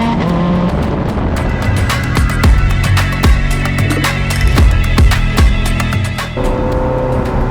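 Ferrari F430 16M with its 4.3 litre V8 screaming through loud, sustained revs toward a high redline, the pitch climbing and dropping between gears, with sharp pops and crackles scattered throughout and no talking.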